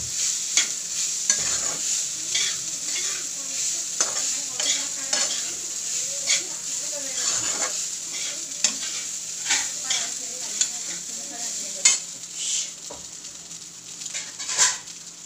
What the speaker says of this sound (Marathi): हा भात घालणार आहे आता आपण।